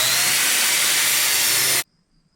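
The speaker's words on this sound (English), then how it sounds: "I need to cut 4 pieces of the poplar and 4 pieces of the pine at 11 inches long" A power saw cuts through poplar and pine boards for a woodworking project, a loud steady whine of blade and wood lasting nearly two seconds, then stopping abruptly into near silence.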